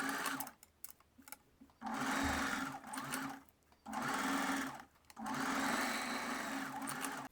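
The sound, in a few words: sewing machine stitching tone tape on a bust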